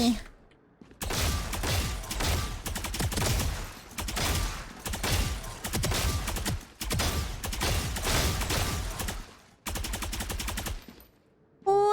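Rapid gunfire in the Valorant practice range, loud automatic bursts lasting a second or two each with short gaps between, close and dominant, with someone speaking briefly.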